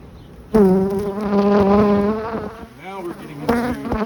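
Honeybees buzz around a beehive, loud and close, a steady droning hum that wavers in pitch as individual bees pass near, dipping briefly before swelling again.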